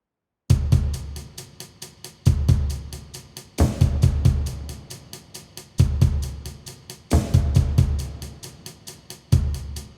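Full pop drum mix of kick, snare and hi-hats in a steady groove, punchy low hits repeating in a regular pattern with ringing decays and crisp cymbal ticks, alone and fairly loud.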